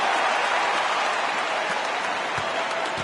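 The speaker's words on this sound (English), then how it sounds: "I don't think you could get a louder crowd than we have in Utah here tonight" A packed Utah arena crowd in the NBA 2K23 basketball game roars and applauds in a dense, continuous wash of noise for the whole span, loud and close with no clear voices on top.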